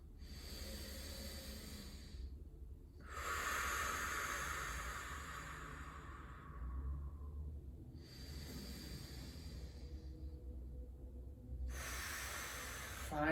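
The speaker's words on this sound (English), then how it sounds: "we're gonna do a few deep breaths" Slow, deep breaths taken during a held stretch, long airy inhales and exhales in several distinct cycles, close and fairly clear over a faint room hum.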